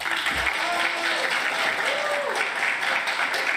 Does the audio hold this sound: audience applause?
yes